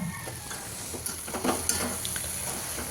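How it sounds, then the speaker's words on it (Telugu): Gongura pachadi, a sorrel leaf chutney seasoned with turmeric and salt, is stirred in a hot pan, giving a steady close sizzle with soft scraping and a few light clinks of the spoon, and no talking. "మొత్తం అయితే కలిపేసుకుంటున్నాను చూడండి."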